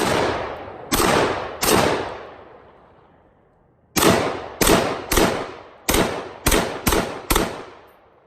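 Springfield Armory M1A rifle firing: about ten sharp, loud reports, two early shots spaced apart, then a quick string of eight after a pause, each ringing off with a long decaying echo, no talk.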